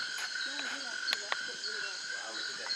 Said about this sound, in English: There's a ton of red-eyed tree frogs we're seeing.